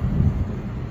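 Steady wind buffets the microphone outdoors at a park during a test flight of a small Walksnail Avatar HD Nano v3 whoop quadcopter, a continuous low rumble with no clear breaks.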